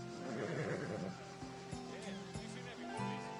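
A horse in Assassin's Creed Odyssey gives a loud, close whinny at the start, then the game's ambient tones and a few low thuds carry on without it.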